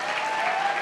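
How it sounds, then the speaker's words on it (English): Audience clapping for a school choir at a 2023 awards ceremony, a brief burst of dense, even applause with no voices over it. "can we have a round of applause for these angelic voices?"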